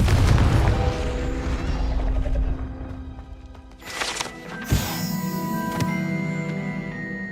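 A Confringo fire spell goes off in the Hogwarts Legacy video game, producing a booming blast with a sharp burst and a ringing magical tail, after a low rumbling stretch, loud and close.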